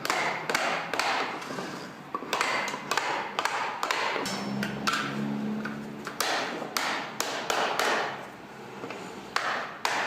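Handmade oak barrel hoops are driven tight with a hammer, giving a series of sharp wooden knocks and thuds in an uneven rhythm, close and loud, with brief quieter gaps between strikes.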